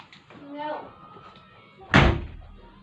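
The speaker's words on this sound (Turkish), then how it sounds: "Kapıyı kapatsana." A door slams shut in a single loud, close thud after a stretch of indoor voices, with a short ringing decay.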